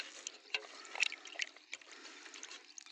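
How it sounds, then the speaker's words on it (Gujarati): Water trickles and splashes softly while a dirty toy is washed, with faint, irregular little drips and sloshes in a quiet room. "આને પણ આપણે પાણીમાં ધોઈ નાખીશું।"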